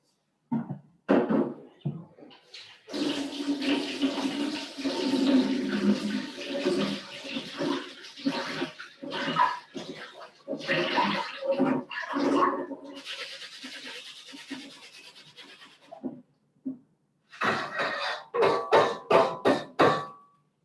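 Rice is rinsed in cold water in a pan, giving a loud, close, irregular sloshing and swishing with bursts of running water separated by brief pauses.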